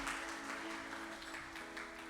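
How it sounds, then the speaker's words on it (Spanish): Congregation applauding inside a church, a steady patter of many hands clapping at moderate distance, fairly quiet, with no talk over it. "Vamos a darle un aplauso al Señor."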